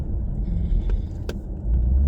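A car drives through a shopping center, its cabin filled with a steady low engine and road rumble and a couple of faint ticks. There is no talking.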